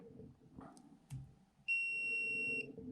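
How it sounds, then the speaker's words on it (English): A pen-type smart multimeter gives one steady electronic beep lasting about a second after taking a reading, close and clear over faint room noise and a couple of small handling clicks. "You do have to leave it on there a little bit and then it beeps at you saying that this is what it is."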